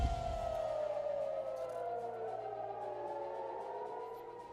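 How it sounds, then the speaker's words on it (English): Air raid sirens going off in Israel, a long wailing tone that slowly falls and then rises again, heard from a distance with layered echoes and low background hum. "Those are the sirens going off in Israel."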